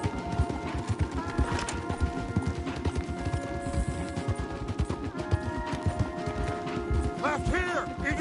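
Horses gallop hard in Red Dead Redemption 2, a fast continuous clatter of hooves with creaking tack and occasional whinnies, loud and close throughout.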